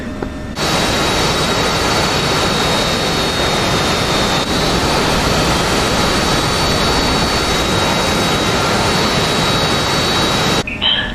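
An F-16's jet engine roars loudly and steadily during taxi onto a runway in a combat flight simulator, a constant broadband whine and rumble that starts and stops abruptly.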